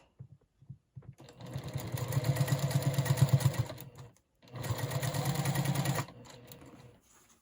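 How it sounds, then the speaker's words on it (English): A sewing machine stitches quilt block pieces together, running close and steady for about three seconds, pausing briefly, then running again for a shorter burst. "So we're going to sew those together."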